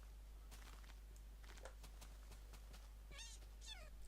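A cat meows faintly several times in a row, thin rising and falling cries near the end, over a steady low electrical hum and soft scattered ticking noises.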